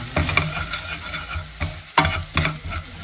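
Dry frankie spice masala roasting in hot oil in a pan, with a soft continuous sizzle broken by several sharp scraping stirs of a spoon, close and clear with no talking.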